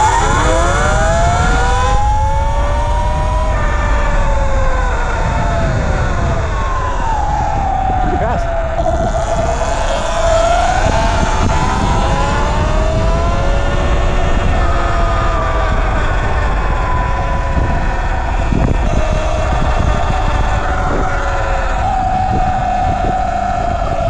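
A Sur-Ron style E Ride electric dirt bike accelerates hard, its motor whine sweeping up and down in pitch over loud, steady rushing wind and road noise close to the rider.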